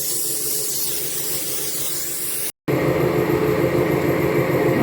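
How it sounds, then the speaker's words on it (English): Air blower hissing compressed air over a lawnmower spark plug to clear debris, a steady loud spray broken by a brief pause, then resuming stronger. "I air blowed that off with an air blower"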